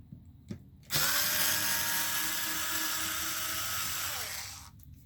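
A power tool whines loudly and steadily for about four seconds while loosening a 2.5 mm bolt on a Traxxas Maxx 4S RC car, then winds down, after a couple of faint clicks.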